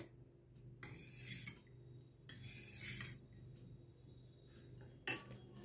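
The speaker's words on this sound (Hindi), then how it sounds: "इसको अच्छे से मिक्स करेंगे" A metal spoon stirs sour homemade yogurt (dahi) in a vessel, giving scraping, clinking strokes in a few short bursts with quiet pauses between them.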